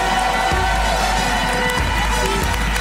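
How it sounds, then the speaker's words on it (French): A live television audience cheers and claps for Sylvie Tellier and Marine Lorphelin, a dense, sustained crowd roar with whoops filling the whole stretch at steady loudness. "On applaudit encore très fort Sylvie Tellier et Marine l'Orphelin."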